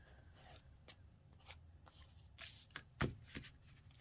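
Quiet snips and rustles come from a border maker trimming card stock straight across, a few scattered clicks and crisp cuts with one louder snap near the end, close and without talk.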